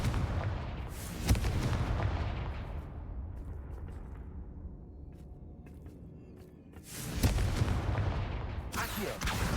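The Confringo fire spell in Hogwarts Legacy bursts with a loud, rumbling explosive blast at the start, fading into a low roar before a second heavy booming eruption near the end, all loud and close.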